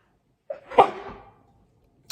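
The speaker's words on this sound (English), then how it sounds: "I feel like I'm going to sneeze." A single close sneeze bursts out after a quick intake of breath, loud and sharp, then trails off into quiet with a small noise at the very end.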